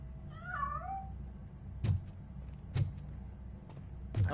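A cat meows once near the start, a short rising and falling call in a quiet game scene, followed by three dull thumps like knocks at a door.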